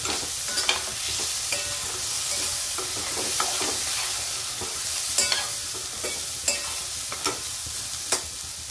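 Soaked dal stirred into a pan of frying masala and green chilli, with a steady loud sizzle and sharp scraping clicks of the spoon that come at irregular moments.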